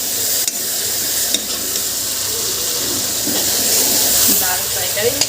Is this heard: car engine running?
no